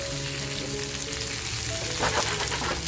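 Prawn-stuffed squid fries over a raised gas flame, a loud continuous sizzle and hiss with a brief burst of sharper crackling near the end.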